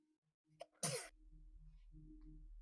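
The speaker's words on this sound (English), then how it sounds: "I forgot to mute while sneezing." A single sharp sneeze bursts out close to a microphone, preceded by a brief intake and followed by a low steady hum, during quiet talk at a watch-along.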